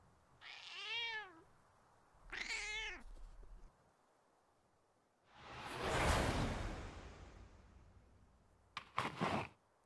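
A black cat gives two clear, drawn-out meows in a fantasy roleplay scene, followed by a long airy whoosh and a quick final swish, all close and fairly quiet with no speech.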